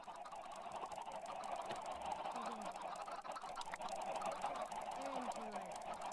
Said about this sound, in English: feed my chicks.